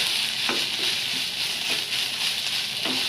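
Minced chicken wonton filling stirred and dried out in a hot pan: a steady hissing fry broken by soft scraping strokes of a spatula roughly every second, close and fairly loud with no speech.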